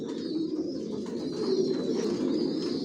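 Racing pigeons in a loft of young adult birds coo steadily, a low continuous murmur of overlapping calls from several birds nearby, with no talk.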